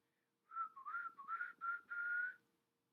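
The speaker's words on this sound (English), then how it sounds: "I love to whistle." One person whistles a short melodic run of five or six clear notes, close and fairly soft, with no other sound around it.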